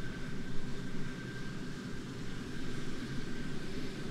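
WWII fighter engine from a flight combat video game, a Yak-3 in play, drones steadily at close range with a dense low rumble and a faint high whine, no voices present.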